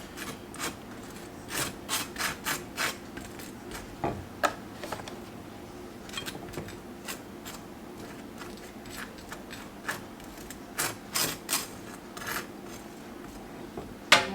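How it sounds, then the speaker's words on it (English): A knife spreads a small amount of stiff butter across a wrap in a kitchen, making repeated soft rasping scrapes with light clicks and taps as the blade touches the plate, close and fairly quiet. "I'm just going to put just a little bit of butter"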